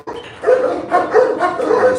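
Dogs barking at feeding time, several loud close barks and yips coming in quick repeated bursts.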